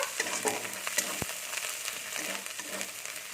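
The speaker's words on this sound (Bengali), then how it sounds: "আদাটা আমি একটু ভেজে নেব" Ginger paste frying in a pan alongside fried onion, a constant close sizzle broken by spatula scrapes and one sharp knock partway through.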